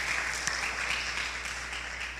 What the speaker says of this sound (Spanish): Démosle un fuerte aplauso a ella